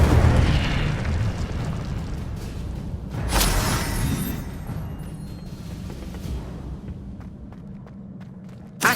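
A burst of fire from the Incendio spell in Hogwarts Legacy, a whooshing flare near the middle over a steady rumbling game background, with a sharp pop at the very end.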